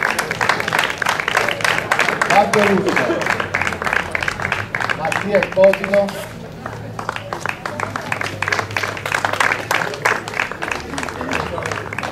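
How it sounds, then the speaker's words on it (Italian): Steady applause from an audience honouring young rally team members at a Pollino slalom event, continuing under a man reading out names over a loudspeaker. "Un applauso a Paolo Scarpelli"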